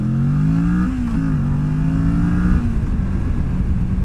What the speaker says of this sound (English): What this bike does do is it takes off like a rocket